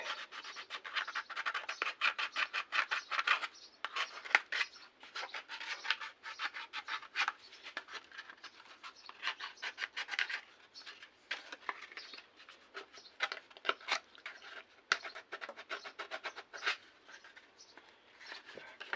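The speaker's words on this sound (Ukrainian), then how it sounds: "беремо наждачку і зачищуємо краї" Sandpaper scrapes the edges of an old lid in rapid, uneven rubbing strokes. The rasping is close but fairly soft and continues throughout with brief pauses.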